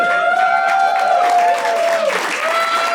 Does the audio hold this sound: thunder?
no